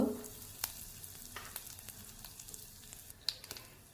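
Mustard seeds, cumin and asafoetida sizzle in two spoons of hot oil for an upma-style breakfast, with a steady crackling fry and scattered sharp pops from the seeds, close and fairly quiet, with no talking.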